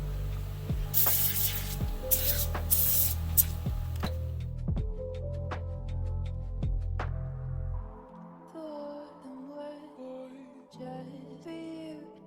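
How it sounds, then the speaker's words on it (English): Several short hissing bursts from an aerosol can of penetrating oil sprayed on a 2013 Audi Q5 axle, each a few seconds apart, then quieter mechanical background with faint clicks. "spray some kind of penetrating oil on here so that it'll pop off easily"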